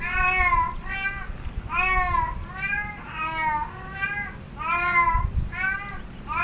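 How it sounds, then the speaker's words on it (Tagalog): A female cat in heat yowls repeatedly up close, long wavering meows coming in a steady rhythm of drawn-out calls, loud and alone with no talking. "Maingay po pala yung pusa na babae pag nag-hit."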